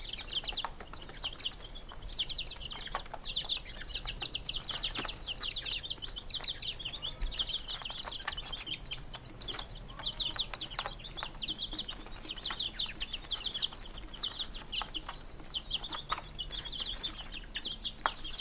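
Young chicks around a backyard waterer, with a continuous chorus of high chirps and soft clucks and occasional wing flutters, moderately near and without talk.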